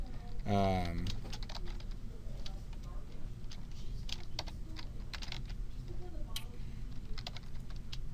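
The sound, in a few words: typing a caption on a computer keyboard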